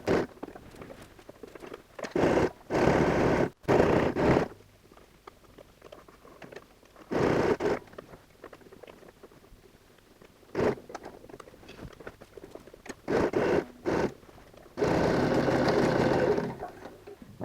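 A sewing machine stitches the lining of a DIY fabric laptop case sized for up to 15-inch laptops, running in several short, loud, close bursts of a few seconds each, separated by quieter pauses of handling.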